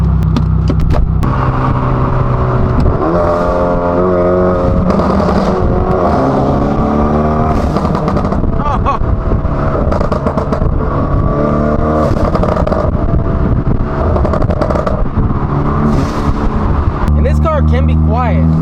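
A Hyundai Elantra N drives along with its engine note rising and falling through several rev sweeps, loud and continuous, under a steady layer of other sound.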